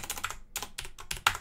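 Quick, uneven keystrokes on a computer keyboard as a terminal command is entered, close and clear, in several short bursts with brief pauses and no talking.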